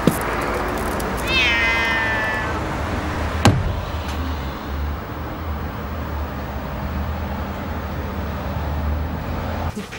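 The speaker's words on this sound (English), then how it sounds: "Back with my mum's cat." A cat meows loudly and close by, a drawn-out wavering cry early on, followed by a car door thud and a low engine rumble in an idling vehicle.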